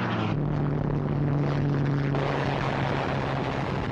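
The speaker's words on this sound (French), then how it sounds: "Les avions américains présents sur la base viennent à leur rencontre." American propeller aircraft, including old Brewster Buffalo fighters, drone steadily overhead at Midway, with a loud, continuous engine roar and a sustained low hum throughout.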